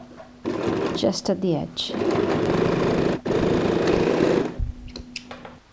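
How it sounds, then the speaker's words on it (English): A sewing machine runs in a steady mechanical whir while top-stitching along a fabric edge on a zip pouch, with a voice speaking briefly before and after the stitching. "So I'm just going to place it like so and just go and sew"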